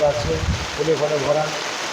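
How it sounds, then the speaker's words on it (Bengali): Heavy rain falls at a riverside ghat, a broad steady hiss of downpour running under a voice that talks over most of the short stretch. "অনেক অনেক বৃষ্টি হচ্ছে আপনারা দেখতে থাকুন দেখুন বৃষ্টি দেখুন"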